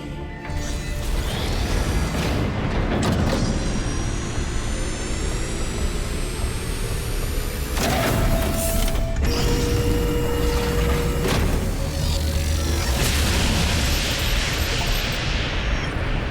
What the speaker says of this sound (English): The megastructure is opening again